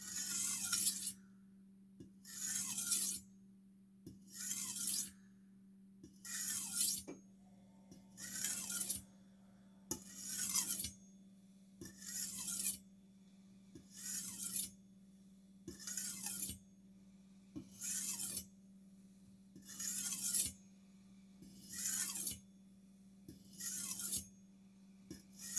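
A kitchen knife is drawn across a plain white sharpening stone in about a dozen evenly spaced, bright scraping strokes roughly every two seconds, heard close up over a steady low hum.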